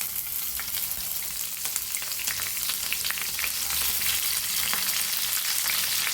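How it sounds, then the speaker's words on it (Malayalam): Onions and curry leaves frying in coconut oil in a pan for a dried shark curry make a dense, continuous crackling sizzle, close and lively with scattered pops and no talking. "ഇനി നമുക്ക് നമ്മളെ കട്ട് ചെയ്ത് വെച്ച ഉള്ളിയും കറിവേപ്പിലയും കൂടി ഇട്ട് കൊടുക്കാൻ പോവാം കേട്ടോ"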